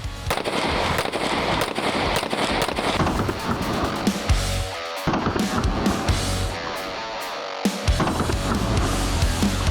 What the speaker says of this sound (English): Brad, I'm going to have you fire 6 shots once I tell you, and you can start now.